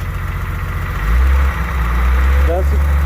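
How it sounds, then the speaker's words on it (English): Car engine idling close up with a slight lifter tap, a steady low rumble that swells briefly partway through, with someone talking over it. "She got a little lifter tap"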